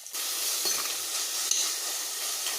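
Tomatoes and green chillies sizzle steadily in a pan while being stirred, a bright continuous frying hiss with a few faint scrapes of the spoon, close and alone without talk.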